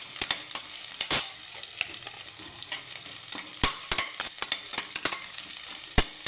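Tomato rice mixture sautés in a pan until golden, Kongu-style tomato rice, with a steady close sizzle and frequent sharp scrapes and clatters of a spoon stirring throughout.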